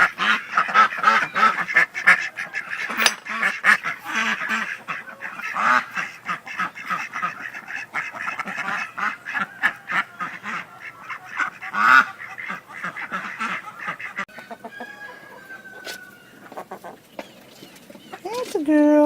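Ducks and chickens call loudly and continuously, a dense mix of honking quacks and clucks close by, with a person talking over the flock at times.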